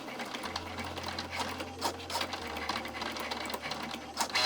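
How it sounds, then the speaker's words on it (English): Cricut cutting machine slicing fine puzzle piece details, a rapid buzzing whir with quick bursts of cutting clicks and motor pitch shifts, close and steady throughout. "Your Cricut will read the print lines by flashing a light, and then it will make a cut."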